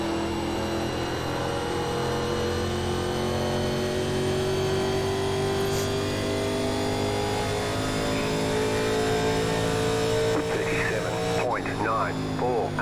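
1987 NASCAR Legends stock cars racing at Homestead-Miami in iRacing, a steady engine drone with slowly shifting pitch as the cars pull away, with a commentator talking over it.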